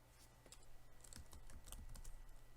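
Quiet keystrokes tap on a computer keyboard in a quick, uneven burst of clicks, close and soft, with no voice over them.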